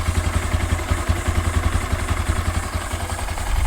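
A 2022 Honda Grom motorcycle with a newly installed intake idles while warming up, a steady close, low engine rumble with a fast pulsing beat and light mechanical clatter, no talking.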